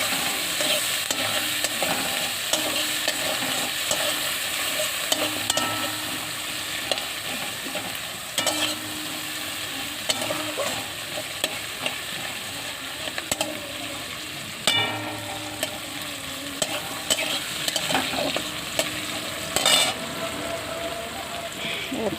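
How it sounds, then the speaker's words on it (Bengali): Onions sizzle and crackle in a frying pan while cooking for a pangas fish curry, a dense, steady hiss with frequent sharp pops and occasional stirring scrapes, close and continuous, with a voice speaking at times. "পেঁয়াজটা ভাজা ভাজা হয়ে গেলে"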